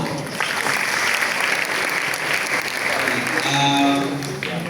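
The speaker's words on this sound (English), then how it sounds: "Please, let's clap for her." An audience claps for someone speaker at a career strategy talk: dense, steady applause filling the room, with a voice emerging near the end.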